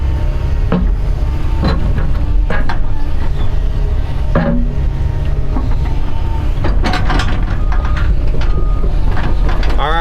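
An excavator rotates its bucket into position, heard from inside the cab during drain-tile trench backfilling: a steady low engine drone carries scattered knocks and clunks, with a burst of louder metallic clatter near the end.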